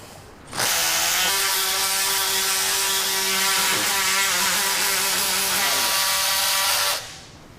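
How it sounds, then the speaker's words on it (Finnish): A power saw whines loudly and steadily for about six seconds, its motor tone holding even before cutting off abruptly. "Sitten me sahataan."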